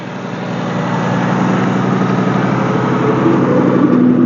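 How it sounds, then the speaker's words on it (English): A 2010 Sunset Gold Ford Mustang engine idles loud and close, a steady rumble with a fast fine ticking of fuel injectors running through it, no talk. "You can hear the injectors here."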